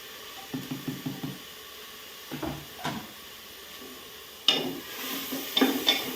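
Onion and tomato frying in a cooker, heard as a soft, close-up sizzle with repeated scraping and stirring sounds and a few sharper clatters toward the end.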